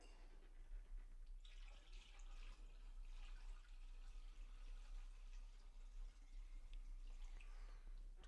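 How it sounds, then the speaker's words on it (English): Water is poured steadily into a grape jam wine fermenter, a soft continuous splashing and trickle that stays faint and close throughout. "let's go ahead and add some extra water that we had left over."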